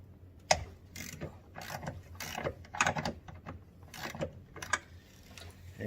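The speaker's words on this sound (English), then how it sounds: "But I like just to break them off a little bit with regular ratchet." Ratchet clicks in short bursts while loosening brake booster bolts on a Ford Escape, with several close, uneven runs of metallic clicking and no talking.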